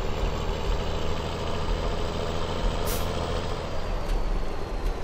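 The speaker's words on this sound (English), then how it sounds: "let's go ahead and fire up the tractor" A Big Bud tractor idling in Farming Simulator 17, a steady, loud, low diesel rumble that holds evenly throughout with no talk.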